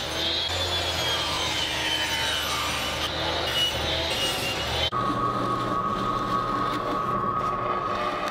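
Plywood panels being cut for a DIY shop air filter built from a furnace blower, a continuous loud rasping saw with a shift in tone about halfway, then a steadier whine.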